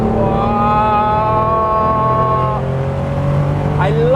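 A restomod sports car accelerates hard, its engine close and loud with a rising note that climbs through the revs, drops at a gear change, and then holds a steadier drone, while a voice speaks briefly near the end.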